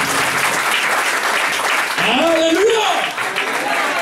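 A church congregation claps and cheers loudly and steadily throughout, while a voice calls out over the applause.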